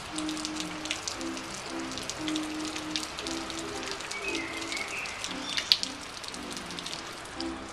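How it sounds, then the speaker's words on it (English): Heavy rain pouring down outside in Prague, a steady dense patter and hiss of drops on surfaces, continuous and fairly loud, with faint tonal sounds under it. "it's pouring down with rain outside."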